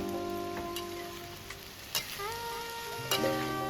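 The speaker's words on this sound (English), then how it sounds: "Stir fry." Diced American eggplant stir fried in a wok the Chinese way, steady sizzling hiss with scattered clicks of spatula strokes against the pan and faint tonal hum underneath.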